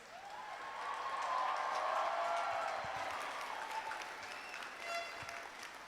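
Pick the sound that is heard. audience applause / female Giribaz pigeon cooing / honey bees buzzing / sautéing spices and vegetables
audience applause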